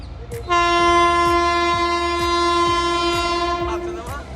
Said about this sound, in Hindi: वो जो ट्रेन थी वो थी अमरनाथ एक्सप्रेस